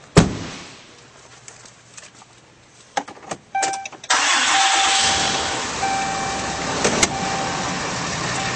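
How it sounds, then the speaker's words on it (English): A 2011 Dodge Ram 3500 truck gives a few clicks and clunks, then its engine cranks, catches and settles into a steady idle that runs to the end of the clip. "Now we'll start up this vehicle."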